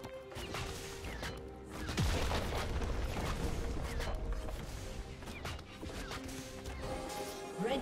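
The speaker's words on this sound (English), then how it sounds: "His turret has been destroyed." Turret destruction in a League of Legends match during a Fiora versus Twitch top-lane game: a dense burst of crashing, booming impacts and clatter that swells near the two-second mark and keeps rumbling loudly, with game effects layered throughout.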